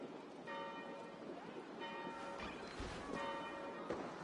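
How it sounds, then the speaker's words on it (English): Church bells ringing at an abbey in the Assassin's Creed Valhalla game, several steady resonant tolls spaced about a second and a half apart, heard at a distance over a rain-like wash of ambience. "Do you not hear the bells?"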